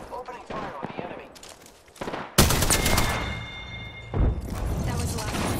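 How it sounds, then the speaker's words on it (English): Rapid automatic gunfire from Apex Legends erupts in dense, loud bursts after scattered earlier shots, with in-game callout voices mixed in. "Opening fire on the enemy"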